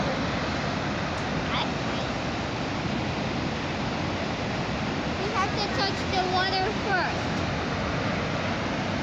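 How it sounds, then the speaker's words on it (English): A waterfall pours with a steady, close broadband roar of rushing water along a road trip through the western United States, while voices come and go briefly over it. "There's a waterfall."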